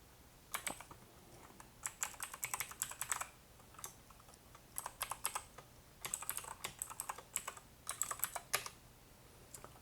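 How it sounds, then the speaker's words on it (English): Keys clatter on a computer keyboard in bursts of quick taps separated by short pauses, each burst typing out a file attachment name. The typing is close, fairly quiet and stands alone with no talk. "I'm going to just manually type that because I don't want to accidentally open that"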